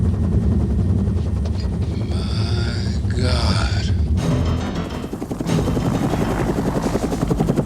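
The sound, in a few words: helicopter arriving for a rescue in the movie DNA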